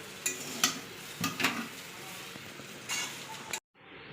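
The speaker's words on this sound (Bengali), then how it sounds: "সব কিছুকে খুব ভালোভাবে মিশিয়ে নিলে কিন্তু চিকেন চাউটা একদম রেডি" Chicken chowmein being tossed and mixed in a pan, a few soft scrapes and clinks of a utensil against the pan over a low frying hiss, close and moderate, ending abruptly in near silence.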